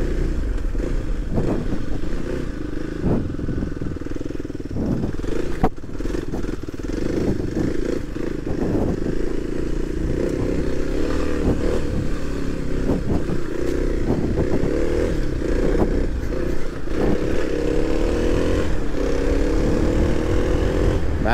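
Kawasaki KLX dirt bike ridden along trails and farmland, its engine droning steadily and loudly throughout with shifts in revs, wind buffeting and some rattling and clatter from the ride.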